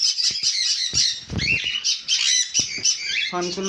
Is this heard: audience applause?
no